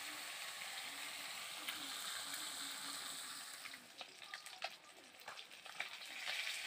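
Fish sizzling and spattering in oil in a kadai as it is turned over, a steady close frying hiss with occasional sharper crackles.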